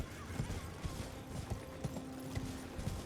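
Horse hooves clip-clop in a steady trotting rhythm from the video game Elden Ring, fairly close and moderately loud over a busy game soundscape.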